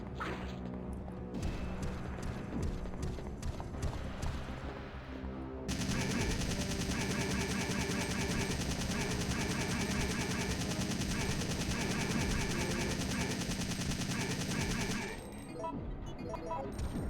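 Gunfire in the Resident Evil 3 Nemesis boss fight: a few sparse shots, then a long stretch of dense, rapid automatic fire that stops abruptly near the end, loud and up front.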